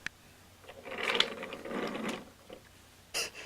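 A wooden Thomas & Friends Wooden Railway toy train engine draws closer with a soft mechanical ratcheting whir. It swells and holds for about a second, fades, then gives a brief closer burst at the end.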